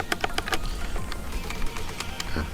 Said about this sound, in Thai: เสียงเนี้ยคือตัวคีย์แคปมันไปกระทบกับตัว แผ่นหน้านะผิวหน้าของตัวคีย์บอร์ดนะเนี่ยมันเลยทำให้มีเสียงนี้